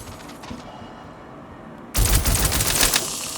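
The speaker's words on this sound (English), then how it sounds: "gun these guys down." Gunfire in the video game Star Citizen during a bunker fight: near silence, then a loud, sudden burst of rapid automatic shots lasting over a second, dense and close, tailing into reverberant echoes.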